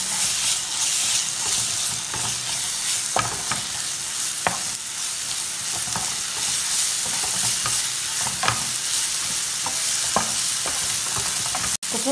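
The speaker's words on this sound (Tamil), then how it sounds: "இப்போ வந்து நம்ம பூண்டு பேஸ்ட் எடுத்து வச்சுருக்கோம்ல, அதை ஆட் பண்ணிடுவோங்க. பச்சை வடை போகிற வரைக்கும் நல்லா வதக்கிக்குவோம்." Garlic paste sizzles and fries steadily in a pan for a drumstick thokku, with a constant bright hiss broken by repeated scraping stirs of a spoon, close up and alone.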